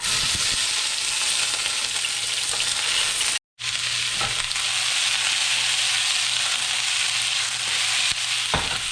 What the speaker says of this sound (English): getting my red bell peppers and onions fried in a